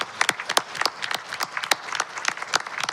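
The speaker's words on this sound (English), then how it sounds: "Give yourself a round of applause" A small audience at a youth event claps steadily, the individual hand claps distinct and fairly close, forming a moderate, uneven round of applause that continues throughout.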